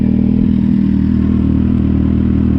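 A Kawasaki Z750 motorcycle engine idles steadily at around 1,200 rpm, a close, loud, even low rumble with a faint mechanical clatter and no change in revs.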